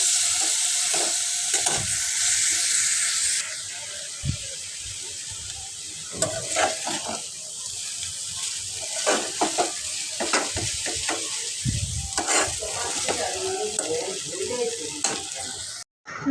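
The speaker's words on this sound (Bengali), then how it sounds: "দিলাম একটু সয়া সস, দিলাম একটু নাড়াচাড়া" Maggi noodles with soy sauce stirred in a hot pan, with a steady sizzle and repeated scraping strokes of a spoon close up, no talking.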